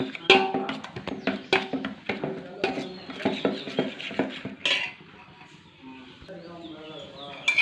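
A utensil briskly beats salted masala omelette egg batter in a bowl, giving rapid rhythmic metallic clinks and taps up close, with a voice briefly heard in the background.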